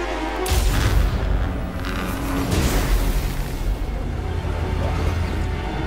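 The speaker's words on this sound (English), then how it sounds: "Hopefully these cannons will actually destroy enough of them." Cannons fire in the For the Horned Rat video game with a heavy, booming low blast that opens the clip, followed by rumbling battle noise and scattered further impacts, with occasional faint voices underneath.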